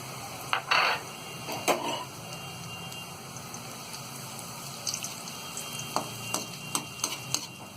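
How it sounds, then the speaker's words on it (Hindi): Raisins frying in oil left from frying cashews, for a Diwali poha chivda: a faint, steady sizzle broken by irregular sharp pops and spits, some clustered early and others spread toward the end, with no one speaking. "काजू को फ्राई करने के बाद में अब हम इसमें किशमिश फ्राई कर लेंगे।"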